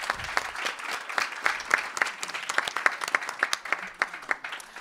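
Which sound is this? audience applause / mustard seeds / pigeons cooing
audience applause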